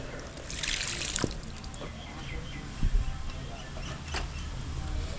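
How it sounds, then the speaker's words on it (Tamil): Water trickles and splashes softly onto a freshly repotted rose plant, with light dribbling and a few small taps and knocks in a quiet setting. "கொஞ்சமாக தண்ணி ஊற்றிடலாம்"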